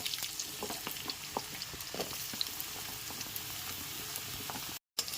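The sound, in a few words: potato and radish frying and being stirred in a pan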